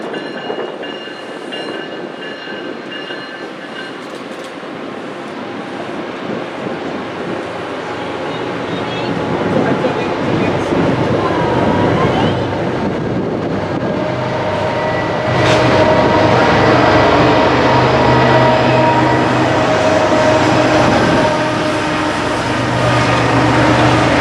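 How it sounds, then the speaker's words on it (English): Keolis 2710, a passenger train, passes at Readville with a steady, loud rumble that swells in the second half, with wheel noise and rail clatter building as the cars go by. "Then our next train was Keolis 2710, which had nothing exciting on it."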